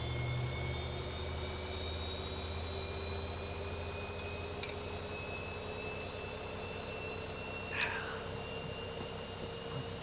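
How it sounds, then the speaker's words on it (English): A Boeing 737 engine start in the ZIBO mod for X-Plane 11 produces a faint, steady jet whine with rising tones and a low hum, with a brief click partway through and no talking. "I want to monitor the engine start because ZIBO's made some changes to this to be a bit more realistic"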